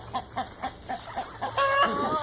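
Chickens cluck in a steady rhythm nearby, then a louder squawk breaks in near the end.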